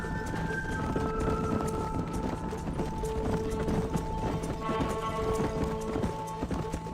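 Rapid hoofbeats of a galloping horse in the video game Red Dead Redemption pound continuously under steady tonal background sound, dense and even throughout.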